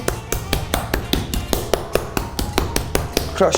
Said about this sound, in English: We're gonna toss it the other way, and I'm gonna mallet it again.